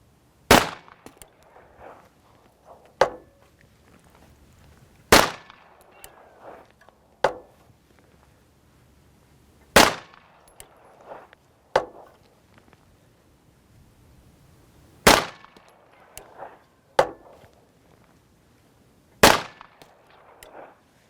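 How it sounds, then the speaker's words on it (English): Five sharp, loud shots from a Watchtower Apache 9mm pistol firing hand-loaded Hornady XTP rounds, spaced several seconds apart, each with quick echoes and a few fainter clicks and rustles between. "Shoot them and group them."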